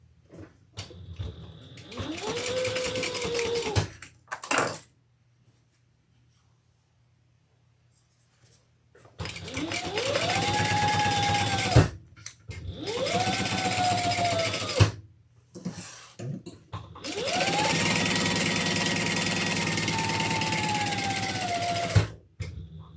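A sewing machine stitches leather in three long, loud close-up runs with short pauses between them, each run whirring steadily before cutting off, with no talking.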